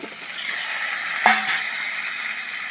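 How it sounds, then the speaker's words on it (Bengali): Raw green banana and potatoes fry in a hot pan with turmeric, giving a steady close sizzle. A brief scrape or stir cuts through near the middle, and no one speaks. "এবার কলাটাকেও আমি এক মিনিটের মতনই কষে নেব"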